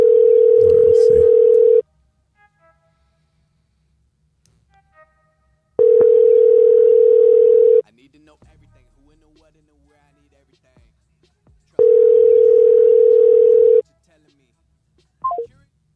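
A steady telephone tone sounds three times, each lasting about two seconds with silent gaps of roughly four seconds between them, loud and clean, with faint clicks and a brief low sound in the pauses.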